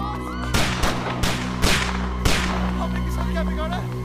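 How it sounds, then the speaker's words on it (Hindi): Gunshots in a Bollywood action film crack out as four or five sharp, loud reports spaced about half a second apart over a low steady hum, then the scene falls to a quieter background. "लगता है कोई गोली चला रहा है।"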